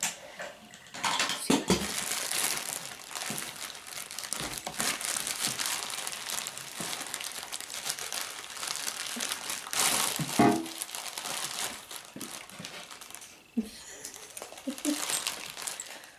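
Crisp plastic packaging holding shampoos and toiletries crinkles and rustles close up as it is handled and opened, in irregular bursts of crackling with occasional sharper snaps, under brief soft speech.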